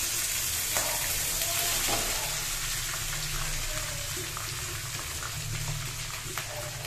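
Peas and rice frying in a pan with crushed cardamom, cloves and cinnamon give a steady, close sizzle with a bright hiss that runs throughout, broken by occasional stirring scrapes.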